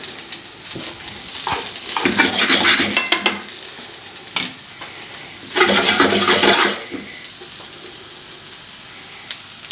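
Garlic cooking in olive oil in a pan for shrimp scampi, a steady close sizzle punctuated by two louder bursts of stirring and scraping, with no voices.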